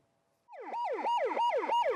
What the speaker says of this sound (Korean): 동네에서 쉴 새 없이 앰뷸런스 소리가 울려 퍼지고